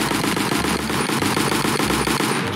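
Rapid automatic gunfire from a Roblox Arsenal capture-the-flag match, a dense continuous rattle of shots that keeps going at a steady loud level without a break.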